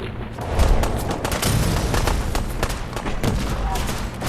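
Rapid gunfire and booming blasts from grenades in Fallout 4 Far Harbor, a dense, loud run of cracks and thuds with a few heavier hits and faint speech mixed in.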